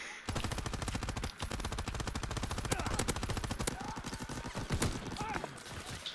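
Rapid automatic gunfire from a Browning automatic rifle and other weapons in Call of Duty WWII split-screen co-op, loud and sustained in fast repeated bursts with only brief gaps.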